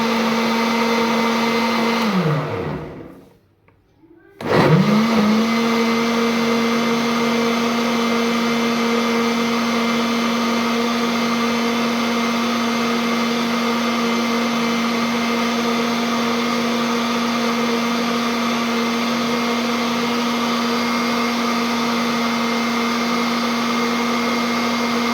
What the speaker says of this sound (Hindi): इसको अच्छी तरह से ब्लेंड कर लेंगे।